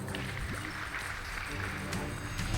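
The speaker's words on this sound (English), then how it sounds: "Please give them a round of applause" Applause for a school debate team at a speech contest, steady clapping filling the room for several seconds amid crowd noise.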